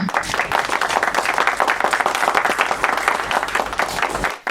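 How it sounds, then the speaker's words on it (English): An audience gives a round of applause welcoming Dr. Danladi Abah to the lectern, lively, close clapping with distinct individual hand claps that holds strong for about four seconds before cutting off abruptly. "Please join me to welcome Dr. Abah with a round of applause"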